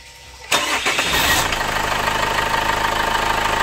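A 2015 Chevrolet Captiva diesel cranks briefly and catches, then settles into a loud, steady idle with a slightly rough, knocking clatter close to the mic.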